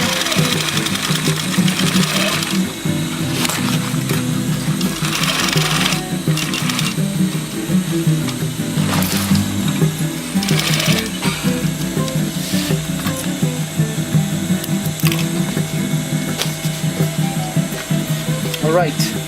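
A sewing machine stitches a simple rollup bag, running loud and steady at close range with only brief changes in pace throughout.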